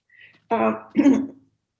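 Two short throaty coughs, or a cough and a throat clearing, sound close by in a quiet room over an online art history lecture call.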